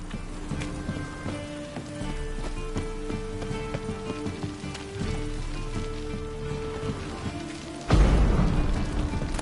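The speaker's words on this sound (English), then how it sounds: "Looks like rain." Steady rain hiss in The Witcher 3: Wild Hunt, falling over game music with sustained tones, swelling into a heavier, louder downpour near the end.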